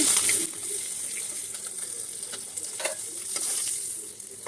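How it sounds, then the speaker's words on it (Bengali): Puti fish frying in hot oil in a pan: a steady, close sizzling hiss that swells and eases slightly, with a few faint scraping clicks and no voices. "বাকি মাছগুলো আমি এইভাবে ভেজে নিব।"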